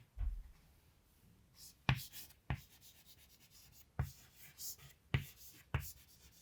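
Pen writing by hand on paper while notes on atomic shells are jotted down, a quiet scratchy rubbing broken by several sharp taps as strokes start and stop, close and soft with no talking.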